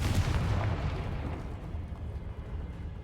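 A Confringo blasting spell fired in the Hogwarts Legacy video game bursts with a loud, rumbling boom that rolls on as a dense low roar, slowly settling across the three seconds.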